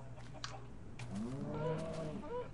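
Cattle in the Minecraft game give a couple of drawn-out, wavering moos that rise and fall over a low steady background hum, loud and close with no talking.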